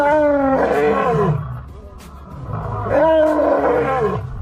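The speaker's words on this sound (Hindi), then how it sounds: "एक असली शेर की आवाज रियल लाइफ में कुछ ऐसी होती है" A real lion roars twice, each a deep, loud, rumbling bellow swelling and fading, heard close up with a short gap between the two.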